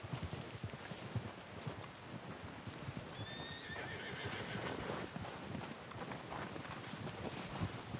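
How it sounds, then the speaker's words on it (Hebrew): A horse in Red Dead Redemption 2 arrives with clip-clop hoofbeats and lets out a clear whinny midway, over soft wind and ambient outdoor noise. "זה הסוס שלי שהגיע"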